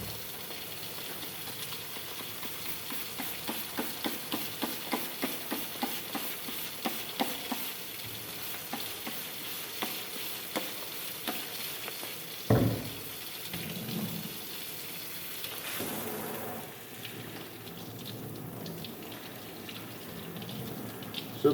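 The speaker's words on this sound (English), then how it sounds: "let's go ahead and just kind of clean it off hot water to kind of rinse it off" Hot water rinsing a K&N aftermarket air filter for a BMW M2, a steady splashing and hissing spray with a few sharp clatters, close and fairly loud, with no talking.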